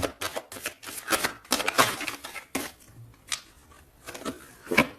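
Tarot cards shuffled by hand for a reading, a quick run of close, crisp riffling flutters and slaps, repeating in short bursts with brief pauses.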